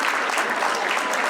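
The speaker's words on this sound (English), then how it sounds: "round of applause if you've been married longer than 20 years" Audience applause fills a comedy club during a Christian comedy show, a dense, even wash of many hands clapping at once, steady and moderately loud from start to finish.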